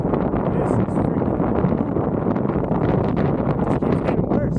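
Strong, steady wind buffets the microphone while cycling out of Key West at the start of a 108-mile ride along the Florida Keys, a loud, continuous roar with gusty surges that runs through the whole stretch.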